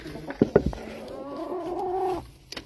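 Several short, abrupt clucks from hens in the countryside are followed by a longer drawn-out call, fairly close, with a quiet pause at the end.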